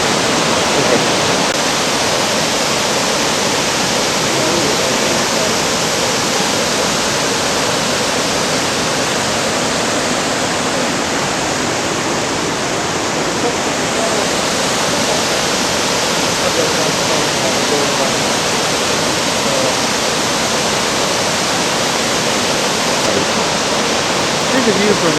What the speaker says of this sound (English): there's a huge waterfall and the rapids